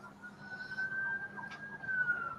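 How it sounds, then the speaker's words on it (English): A distant siren wails faintly in the background, a steady tone under a quiet room with no clear talk. "Y'all can hear them fucking sirens"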